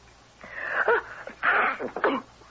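A single person's sneeze in a radio drama, a short indrawn build-up followed by a breathy burst, then a second smaller sneeze-like exhalation, close and fairly quiet.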